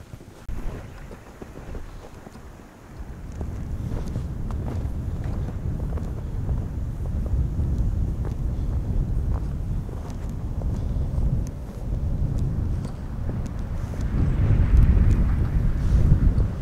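Strong wind gusts outdoors across a snowy back yard after three inches of overnight snow near a homemade wind turbine, a loud continuous roar buffeting the microphone, swelling and easing in surges and strongest near the end.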